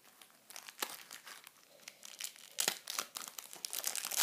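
Football trading card packs torn open one after another, wrapper plastic crinkling and crackling in bursts close by, with sharper tearing rips near the end and no talk.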